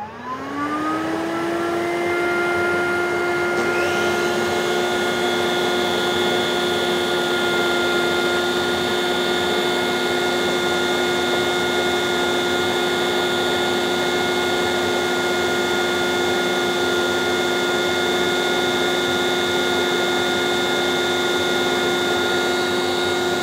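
Hyla EST water canister vacuum's power nozzle spins up to a steady, loud high-pitched whir and keeps droning continuously, close and alone.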